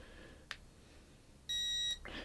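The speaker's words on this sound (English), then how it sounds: "You'll hear it beep, push it, and now it blows." A Redtiger car vacuum gives a single steady electronic beep for about half a second as it is switched on, framed by a couple of faint clicks and rustles.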